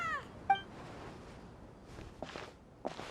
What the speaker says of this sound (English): Even a passing cat can't help but stop in its tracks and look up in anticipation